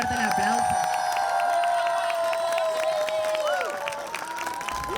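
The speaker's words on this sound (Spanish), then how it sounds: "Fuerte el aplauso." Crowd applauding in an outdoor plaza, continuous clapping and cheering beneath a loud sustained tonal sound, with crowd voices mixed in throughout.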